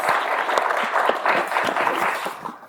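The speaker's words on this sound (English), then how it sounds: "Did I hear some applause from one of our board members?" Applause from a small audience of board members at an arts organisation's quarterly assembly: a short burst of brisk, uneven clapping, fairly close and with no talk.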